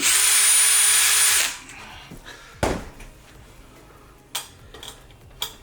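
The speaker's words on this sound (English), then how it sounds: "Drill it out just a little bit." A power drill whirs loudly for about a second and a half, then cuts off, followed by a few sharp clicks and thumps nearby.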